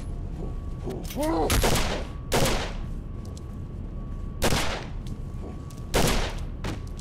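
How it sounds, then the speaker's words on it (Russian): Several loud, sharp gunshots in the video game Condemned: Criminal Origins, a shotgun blast and pistol shots, a cluster of quick blasts followed by single shots spaced a few seconds apart, with a faint steady hum beneath. "Выстрел из дробовика и два, три из пистолета?"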